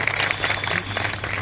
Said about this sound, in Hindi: आपने तालियां तो बजाई